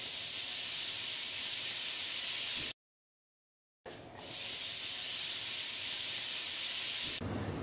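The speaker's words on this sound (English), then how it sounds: "To make the sound of food cooking, you would put a damp face cloth into a hot frying pan." Loud, steady hiss of a damp face cloth sizzling in a hot frying pan, cutting out to silence for about a second, then resuming.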